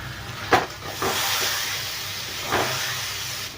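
Water poured into a hot pan of fried onion and turmeric masala for egg curry sets off a loud, steady steam hiss, with a few sharp bursts of sizzle at the start and again midway.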